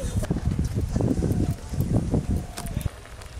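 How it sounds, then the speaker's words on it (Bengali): Coconut milk malai curry gravy with prawns bubbling on the stove, a steady low burbling simmer, close and continuous, easing off toward the end. "ঝোলটা একটু ভালো করে ফুটে যাক"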